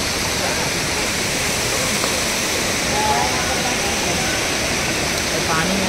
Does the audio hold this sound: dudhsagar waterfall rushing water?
yes